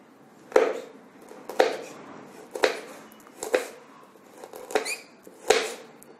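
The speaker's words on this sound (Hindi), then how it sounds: "इसमें हम मिर्ची लेते हैं, मिर्ची को काट लेते हैं।" Green chili is cut with a knife, giving six evenly spaced crisp chops about one per second, each a sharp close thud with a short decay over a quiet background.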